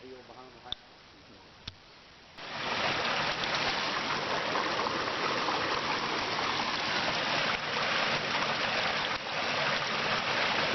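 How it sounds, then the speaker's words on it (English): Fresh spring water pours steadily out of a mountainside cavern, a continuous broadband rush that starts abruptly after a few quiet seconds with small ticks, then holds loud and close to the end. "It is fresh spring water, comes right out of the mountain."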